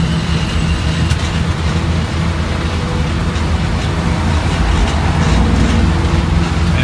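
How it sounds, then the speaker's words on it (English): Post-holiday road traffic heard from inside an ELF during a ride: a continuous loud, dense roar of passing vehicles and road rumble that stays even throughout, with no talking. "this is some post-holiday traffic here"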